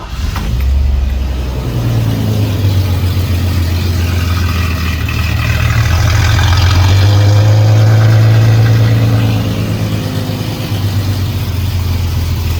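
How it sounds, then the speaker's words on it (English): A 1992 Toyota 4Runner engine with newly installed headers idles steadily and loudly, a low throbbing rumble with a raspy, puffing exhaust-leak note near the muffler connection that swells slightly midway. No voices. "there are 2 exhaust leaks, maybe just 1 big exhaust leak underneath where it connects to the muffler"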